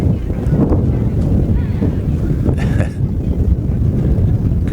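Steady wind gusts buffet the microphone at an outdoor Miracle League baseball field in Pennsylvania's Laurel Highlands, a continuous low roar that fills the clip with a brief dip near the middle.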